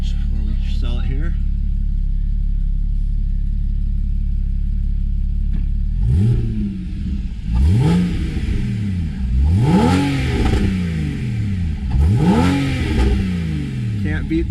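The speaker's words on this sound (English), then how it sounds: "Can't beat that 981 flat 6 sound, guys. Naturally aspirated." A 2014 Porsche Boxster 981 with its naturally aspirated flat-six idles steadily, then rises through four sharp revs in quick succession, each climbing and falling back, loud and close with no voices.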